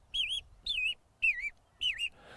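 An American robin sings four clear, whistled, warbling phrases with short pauses between them, close and distinct against a quiet background.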